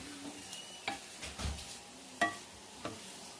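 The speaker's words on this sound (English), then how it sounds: "these mushrooms have been sauteing for just a little bit over 2 minutes" Mushrooms sauté in two tablespoons of butter in a pan, a soft sizzle under several distinct scrapes and knocks of a utensil stirring them.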